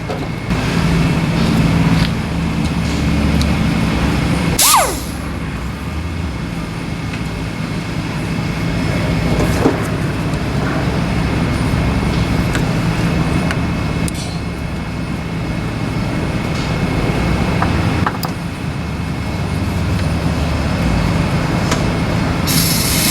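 A cutoff wheel grinds through the metal of an AMC AMX front end, producing a loud, harsh, continuous roar with occasional sharper squeals and shifts in pitch for over twenty seconds.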